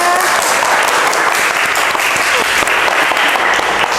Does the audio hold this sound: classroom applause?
yes